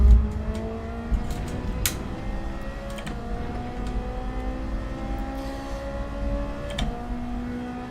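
A Ferrari race car engine in Gran Turismo 7 holds a steady high whine, its pitch rising and falling through gear changes, loud and continuous with no talk.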